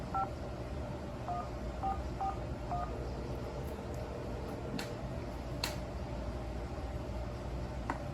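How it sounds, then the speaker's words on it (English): Telephone keypad tones in the Nancy Drew video game, with several short beeps at an even pace over a steady low background hum, followed by a few faint clicks. "I guess we'll call Frank and Rose while we're here."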